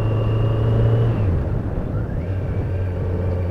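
A 2020 Kawasaki Z900 motorcycle being ridden during break-in, its steady engine drone loud and close, with the pitch dropping midway as the rider shifts or eases off, then settling into a lower hum.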